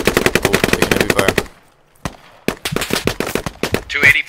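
Rapid automatic gunfire in the squad-based shooter game Squad Alpha, loud and close: a dense burst of shots, a short lull with a single report, then another sustained volley.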